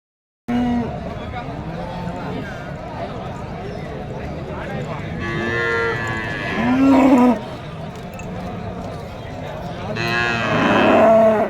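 Dairy cows, Jersey and HF crossbreeds, mooing at the Karimangalam cattle market, with several drawn-out calls over steady crowd chatter and market noise, louder bellows near the middle and end.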